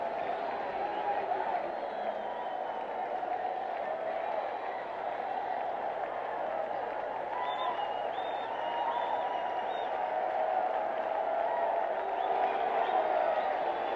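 Sustained roar of a stadium baseball crowd at a Rangers–Orioles game, cheering and applauding steadily after an Orioles grand slam, a dense far-off wash of voices holding level throughout with scattered whistles.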